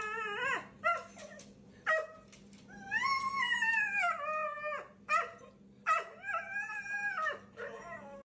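A dog whines and howls in drawn-out, wavering cries broken by short yips, close and fairly loud against a low steady hum.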